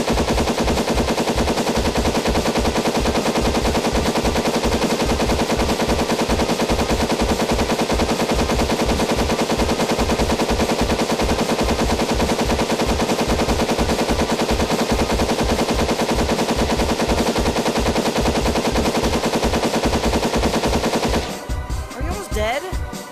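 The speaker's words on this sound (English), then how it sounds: "I'm shooting them." Loud, continuous rapid gunfire from a video game shooting at monkeys, an unbroken fast machine-gun rattle that fills the whole stretch before cutting out near the end.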